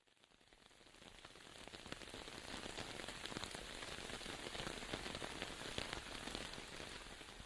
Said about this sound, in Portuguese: se tiver rolando um barulhinho de chuva aí no fundo, é porque começou a chover agora